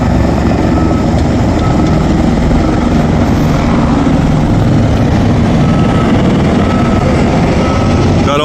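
Tour helicopters returning from the Grand Canyon pass overhead near a Las Vegas stadium construction site, their rotor drone a steady, loud, broadband roar that holds throughout without letup.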